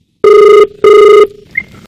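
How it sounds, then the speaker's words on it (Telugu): Two loud, even electronic telephone rings, each about half a second long with a short gap between them, followed by a faint chirp. "ఫోన్ కిరికిరి అంది."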